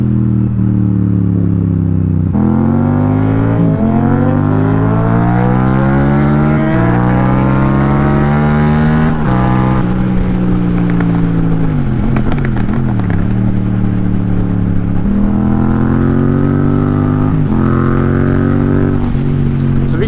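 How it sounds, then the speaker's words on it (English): Motorcycle engine with an aftermarket exhaust, a GSX-S 750 or FZ-07, loud and close, revving up repeatedly in rising sweeps, with crackling pops on the overrun. "He seems to love it. It's crazy backfires."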